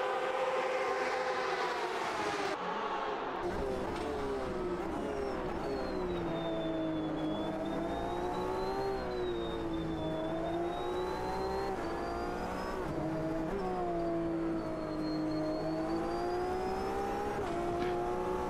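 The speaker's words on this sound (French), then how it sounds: "Superbe son cette Porsche." A Porsche race car engine in the Automobilista 2 racing game at the Sugo circuit roars steadily and loud, its revs rising and falling through gear changes across the whole stretch, with no voices over it.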